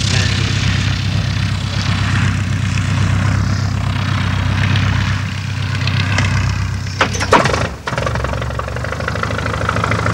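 A vintage propeller aircraft lands in strong wind, its engine droning steadily and fairly close with a throbbing low hum, while gusts buffet past and a few sharp bumps and clatters come near the end.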